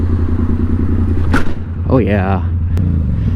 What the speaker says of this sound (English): Now I'm riding with the Harley, brah.